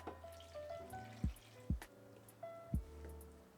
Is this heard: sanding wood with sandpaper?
no